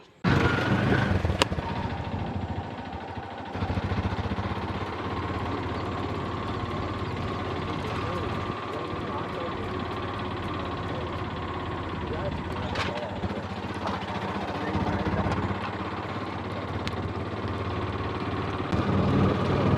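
An auto rickshaw engine idles steadily nearby on Nainativu island, Jaffna, Sri Lanka, with a low chugging rumble, joined by faint street noise and occasional clatters.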